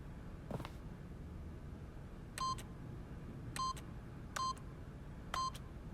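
Keypad PIN entry in the video game The Stanley Parable: four short electronic tone beeps at roughly one-second intervals, each followed by a small click, over a quiet background hum.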